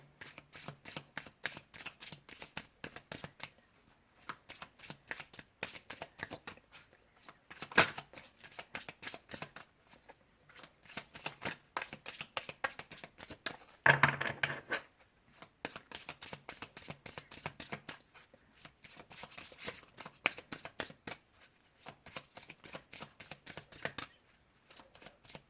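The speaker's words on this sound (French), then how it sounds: "on va remélanger toutes les cartes" A deck of tarot cards being shuffled by hand in repeated bursts of crisp riffling and sliding, close and fairly quiet, with short pauses between passes and no speech.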